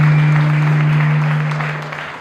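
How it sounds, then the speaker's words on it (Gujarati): Audience at a motivational talk in Surat claps in a continuous, blended wash of applause, loud and close over a steady humming drone, easing off toward the end. "તાળી પાડો એના માટે, બહુ મોટી વાત છે."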